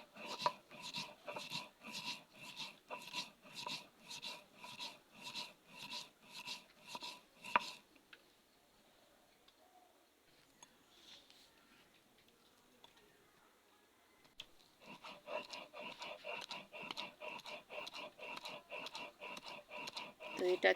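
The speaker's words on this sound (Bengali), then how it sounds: "শিলপাটায় সরিষা বেটে নেব।" Red mustard seeds ground by hand on a shilpata grinding stone, a rhythmic, close scraping stroke repeating about twice a second, pausing for several seconds before the steady back-and-forth resumes.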